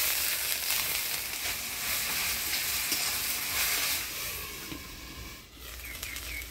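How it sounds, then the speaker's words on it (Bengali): Chopped jute leaves (pat shak) fry with salt and a splash of water in a pan, giving a steady, broad sizzle that holds fairly loud throughout, easing slightly toward the end with a few soft pops. "শাকটা ভাজি নিলাম, এবার নামাই নিব।"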